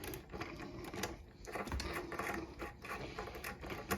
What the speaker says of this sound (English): I'm going to remove these nuts. This is a 7/16 inch socket.